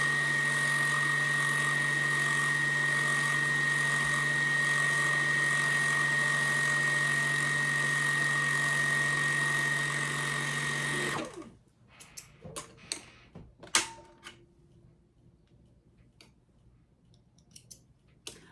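A sewing machine runs flat out, a loud, steady mechanical whine with a constant pitch that lasts about eleven seconds, then cuts off, leaving scattered clicks and handling taps.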